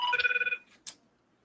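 A telephone bell rings in a quick trilling burst of about half a second, fairly faint, followed by a short click and then quiet.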